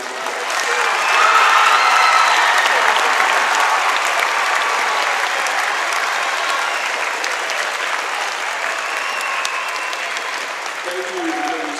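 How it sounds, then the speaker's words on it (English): Sustained applause from a school assembly audience honoring high school AP academic students, steady dense clapping with crowd noise lasting the whole stretch, loud and close throughout. "Please give these students a round of applause."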